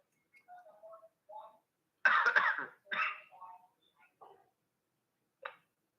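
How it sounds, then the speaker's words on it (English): A few short coughs and throat sounds break up quiet murmuring, fairly close but soft, with gaps of silence between them. "You got a cough?"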